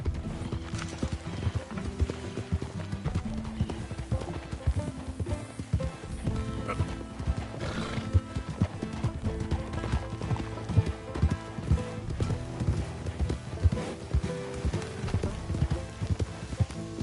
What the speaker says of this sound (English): I'll get this donkey to kick you.